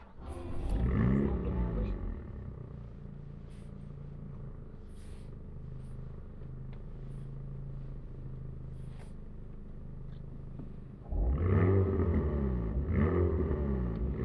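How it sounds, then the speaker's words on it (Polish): A mid-engined Alpine A110 sports car starts up close behind the cabin with a brief roar, settles into a steady low idle, then the engine swells again with a louder rumble. "Od razu odzywa się za mną jednostka napędowa"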